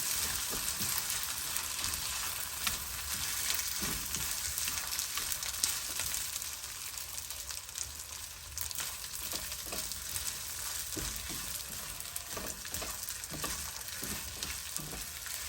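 Egg fried rice sizzles steadily in a hot pan while being stirred and tossed, a continuous close frying hiss broken by scraping stir strokes throughout.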